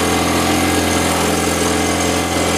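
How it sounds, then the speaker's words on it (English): A sailing boat's engine running while motoring across calm, windless sea from Dingle to Valentia, a loud, steady, close mechanical drone with a constant vibrating tone and no pauses. "So we're motoring."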